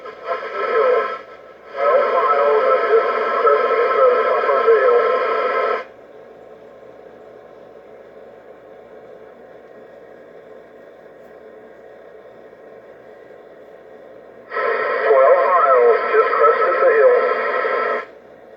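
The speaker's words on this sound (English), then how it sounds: "what you're hearing here is I'm out on the mobile with the General HP40W CB radio" A mobile CB radio transmission from a General HP40W set, a voice coming through over steady static hiss, which carries on alone in a quiet stretch before the voice returns.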